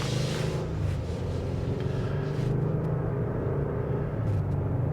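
Subdued steady road and engine rumble inside the cabin of a 2025 Ford Explorer with a 2.3-liter EcoBoost engine, a continuous muted low drone while driving, with no talking.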